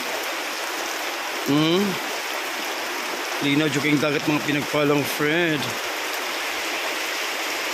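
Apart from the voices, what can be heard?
heavy rain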